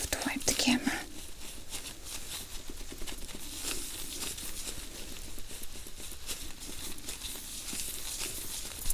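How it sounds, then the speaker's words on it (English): A tissue is rubbed over a camera lens close up, making a continuous soft crinkling and rustling with faint scratchy patter, while a soft whispery voice is heard at the start. "I have to wipe the camera."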